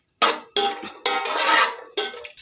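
Cashews and almonds frying in oil in a pot, heard as four separate close bursts of clattering stirring, each scrape against the pot followed by a short pause.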